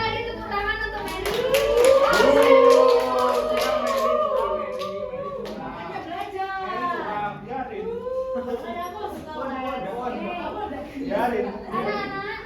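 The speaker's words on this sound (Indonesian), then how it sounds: "Anak Mary, tepuk tangan untuk Mary." A classroom of children bursts into a quick round of applause for a classmate, the dense clapping fading into excited chatter and a teacher's voice.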